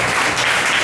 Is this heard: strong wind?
no